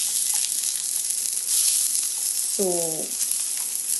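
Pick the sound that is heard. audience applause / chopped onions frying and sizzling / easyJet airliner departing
chopped onions frying and sizzling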